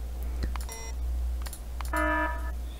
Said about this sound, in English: But the alarm's pretty good.